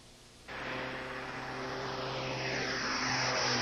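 Aircraft engine drone of a fixed-wing plane airlifting a young patient to hospital, starting abruptly and holding a loud, steady propeller roar with a low hum that swells slightly throughout.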